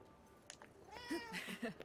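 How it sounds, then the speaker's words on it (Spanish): A cat meows in the video game Forspoken, several short plaintive calls with harmonic tones in the second half, fairly close and clear over quiet ambient game sound. "Un gato."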